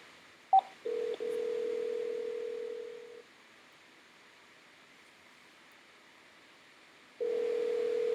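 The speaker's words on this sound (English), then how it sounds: "Let's see if I can get him on the phone." A short beep, then a steady phone tone for about two seconds that cuts off, a pause of quiet hiss, and the tone returns at the end.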